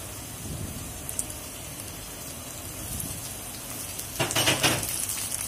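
Chopped tomato sizzles steadily in a pan with browned onion for a Bangladeshi-style chewa fish do-pyaza. The constant crackle rises into a louder burst of stirring near the end, with no voices.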